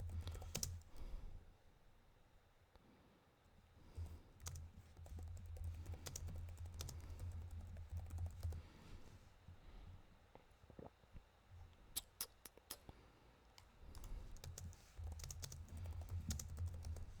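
Steady typing on a computer keyboard while entering a search: rapid, quiet, close-up key clicks in irregular bursts with short pauses, over a low background hum and no speech.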